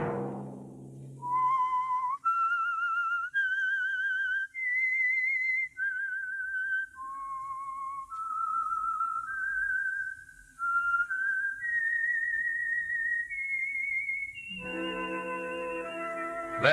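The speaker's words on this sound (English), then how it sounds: "Let that whistle be your signal for the Signal Oil program, The Whistler." A lone whistled melody, the theme signal of The Whistler radio mystery program, rises and falls in a slow, clear tune of sustained notes, heard alone with a brief musical sting at the close.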